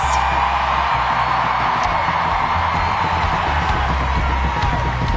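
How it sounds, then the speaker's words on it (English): A stadium crowd at a USWNT vs Mexico women's soccer match claps and cheers steadily through player introductions, a loud, sustained roar with whoops, and no clear voice on top. "Keep that applause going for number 9, Lindsay Horan."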